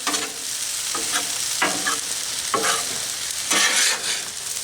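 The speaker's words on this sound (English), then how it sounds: "I'm going to scoop it up into a pan" Beef stir fry sizzles on a Blackstone griddle as it is scooped off, with several close bursts of spatula scraping cutting through a constant sizzle.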